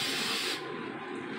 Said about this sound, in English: Let me get my disinfectant spray.